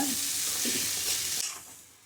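Raw banana pieces being stirred into hot oil with curry leaves, a steady close sizzle with scraping strokes that fades toward the end.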